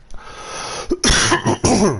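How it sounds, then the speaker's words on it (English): Several harsh, loud coughs burst out close by, a brief one first and then a rapid cluster of throaty hacks. "coughing and spluttering"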